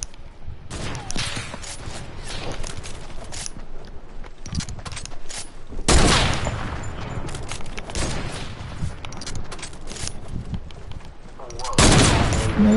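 Fortnite video game gunfire with rapid bursts and loud booming shots repeating across the clip, mixed with ongoing game noise and voice chat.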